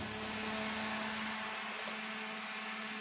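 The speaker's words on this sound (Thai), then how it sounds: "พัดลมตัวนี้แรงมากนะครับ" A clip-on electric fan plugged into a 300A power box hums steadily and loudly at full strength, a constant motor whir with a faint tonal drone throughout, no voices.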